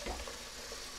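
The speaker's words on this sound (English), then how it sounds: "so you want to fill up your pot with water" Water runs from a kitchen tap into a cooking pot as it fills for boiling macaroni and cheese, a steady close rushing splash lasting about a second with no talking.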